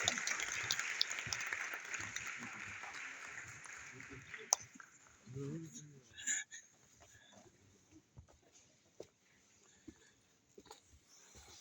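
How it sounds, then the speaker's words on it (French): A meeting audience applauds as the secretary general prepares to leave, the clapping strongest at the start and fading into scattered claps, with brief voices and noises afterwards. "nous applaudissons"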